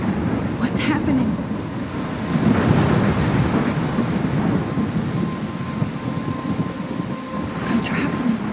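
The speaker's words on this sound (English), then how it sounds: "I'm trapped in a storm?" A thunderstorm in the video game Life Is Strange brings heavy, steady rain and rolling thunder throughout, with a loud, dense wash of rain noise and low rumbles. A voice speaks faintly underneath.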